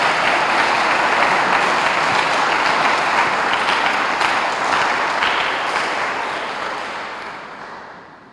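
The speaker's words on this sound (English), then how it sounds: "Let's get a round of applause for our volunteer firefighters with us here today." Audience in a town hall at a State of the Town address applauding volunteer firefighters; dense, steady clapping from a sizable crowd that holds strong and then gradually fades out near the end.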